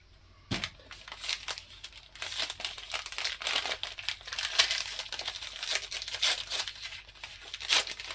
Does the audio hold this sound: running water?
no